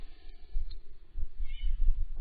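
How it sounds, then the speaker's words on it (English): A small cat gives a couple of short, weak meows, close by and fairly quiet, with low rumbling room noise underneath. "Aw, that was a cute little wimpy meow."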